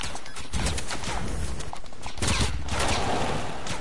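Rapid video-game gunfire crackles in dense, continuous bursts, loud and close, with no talking over it.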